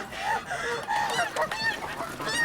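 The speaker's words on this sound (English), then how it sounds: "I was startled by the geese" Geese honk repeatedly in a TV drama scene, a series of loud nasal calls overlapping one another without speech.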